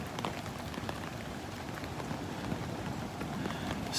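Light rain drizzling at Delnor-Wiggins beach on the Gulf of Mexico, at the tail end of Tropical Storm Sally, with soft scattered drops tapping on surfaces, a quiet, even patter throughout.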